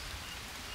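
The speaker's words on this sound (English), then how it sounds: "look, it's finally raining" Steady rain falls in the jungle survival game Green Hell, a dense, even patter of drops on surfaces that fills the whole short moment with no voices.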